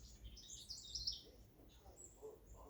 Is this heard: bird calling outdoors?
yes